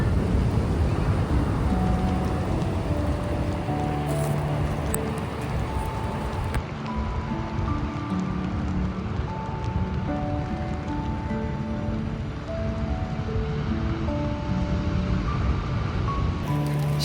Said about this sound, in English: We've arrived at Black Sand Beach and the waves are insane.